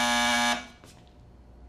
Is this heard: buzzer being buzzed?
yes